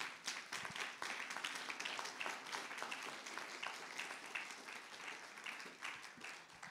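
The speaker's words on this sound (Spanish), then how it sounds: "Dale una ofrenda de palmas al Rey." A church congregation claps together during a Wednesday general service, a dense, steady patter of many hands filling the room at moderate volume for several seconds.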